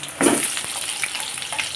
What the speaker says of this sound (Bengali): আলুটা ভাজা করে নিচ্ছি, মাংসের আলুটা আগে ভাজা করে নিই